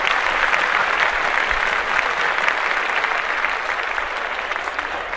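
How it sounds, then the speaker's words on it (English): Podcast hosts in a studio clap steadily for several seconds, a dense and even burst of applause with no talk over it. "we're going to clap that up."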